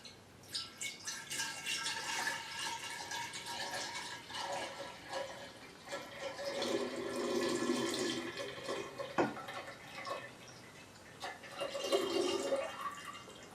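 Liquid pours steadily into a mixing jar, a liquid stream splashing and gurgling in bursts with brief pauses, close and moderately loud, no voices.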